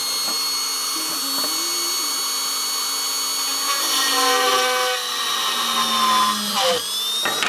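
A hand drill (gimlet) pre-drills holes in a circuit board, producing a continuous loud, whining grind with shifting pitch over several seconds, alone with no talking.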